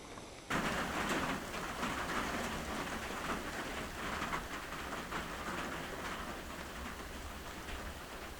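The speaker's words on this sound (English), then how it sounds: "It's been raining all day. One of those light drizzly days." Light, steady drizzly rain falls outside an off-grid cabin, a soft continuous patter and hiss that begins abruptly and continues evenly throughout, with no voices.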